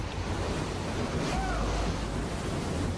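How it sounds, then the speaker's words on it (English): Storm surge floodwater from Hurricane Katrina rushing into the Lower 9th Ward and St. Bernard Parish, a steady, loud, wind-blown roar of surging water with no break, heard alone for three seconds. "The water rushes into the lower 9th Ward and St. Bernard Parish at incredible speed."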